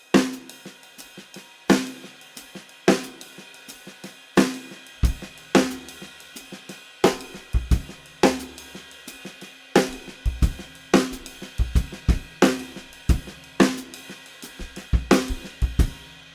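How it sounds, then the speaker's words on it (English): A drum kit plays a layered hand pattern, the right hand steady on the ride cymbal and the left hand keeping a snare drum beat, a loud, close groove repeating evenly throughout. "move the right hand from the hi-hat to the ride cymbal, and the left hand is just going to keep playing the snare drum"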